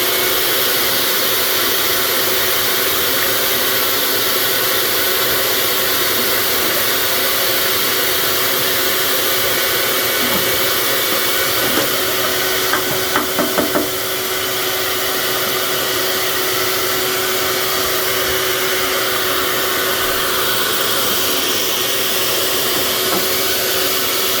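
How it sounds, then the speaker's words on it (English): A vacuum cleaner runs continuously while a Breckwell BigE stove is cleaned out, giving a loud, steady, unbroken whine with faint clattering partway through. "That will keep the vacuum on."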